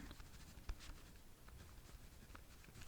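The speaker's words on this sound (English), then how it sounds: "I'm gonna write that down." A pen scratches across paper in close, quiet strokes during a mock intake form, with one brief tap near the start and no voices.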